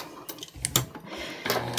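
A sewing machine stitching fabric and batting for a card lanyard, heard in two short close bursts of mechanical clatter separated by a brief pause, with no talking.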